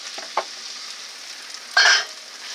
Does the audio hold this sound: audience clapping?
no